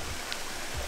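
Steady broadband rush of rain falling beside a stream on a wet landscape outing, continuous and fairly close, with no voices.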